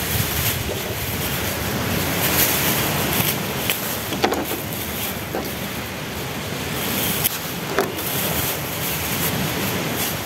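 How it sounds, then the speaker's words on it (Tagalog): Strong wind at a beach roars and buffets the microphone, blending with the rush of surf in a constant loud wash. "Lakas ng hangin."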